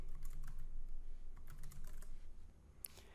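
Typing on a computer keyboard while entering a chart title, a quiet run of light irregular key clicks over a low background hum, with a sharper tap near the end and no talking.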